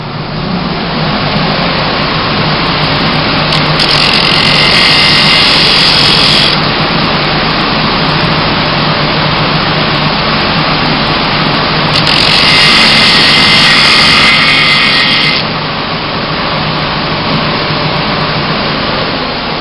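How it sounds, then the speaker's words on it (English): A sander flattens the ends of small copper pieces for a lure, its motor a loud continuous roar with two longer stretches of brighter grinding hiss as the metal is pressed against it. "take it to my sander and flatten the ends of the copper so that they're flat"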